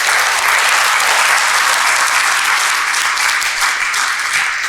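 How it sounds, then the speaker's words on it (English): An audience bursts into sustained, dense applause, a loud wash of many hands clapping continuously for several seconds with no pauses. "Let's give her a round of applause."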